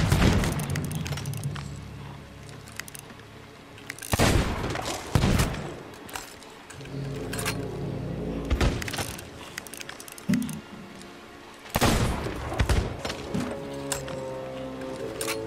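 Gunfire in Sea of Thieves as a player shoots at skeletons, with several loud, sharp shots and bursts spread irregularly through the scene and quieter game noise between them.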